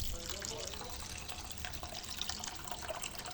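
Water poured into a pot of sautéed sardines while cooking odong noodles, a steady splashing pour with light trickling, close and continuous throughout.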